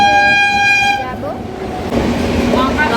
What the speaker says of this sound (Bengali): ট্রেন যত পাস হচ্ছে ও দেখতে যাচ্ছে